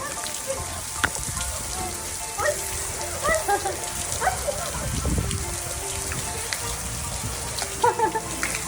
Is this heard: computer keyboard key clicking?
no